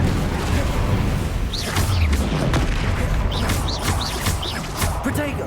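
A Bombarda spell explosion in the Hogwarts Legacy video game, a dense booming and crashing blast with whooshing bursts layered over continuous loud game noise, with a voice calling out spells nearby.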